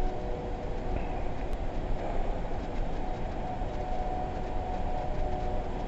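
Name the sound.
train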